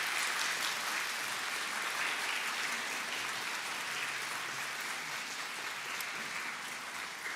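A graduation ceremony audience claps steadily and densely in a large hall, a continuous wash of applause with some cheering mixed in, with no speech over it.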